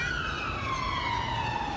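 Police car siren passing along a busy London street, a steady wailing tone gliding slowly downward in pitch, continuous and fairly close over low traffic rumble, with no speech.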